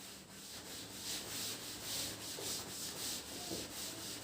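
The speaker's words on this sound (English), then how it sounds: "Should I rub the upper part?" Rubbing out writing on a board gives a soft, rhythmic scrubbing of repeated strokes, fairly faint and close, with no talking.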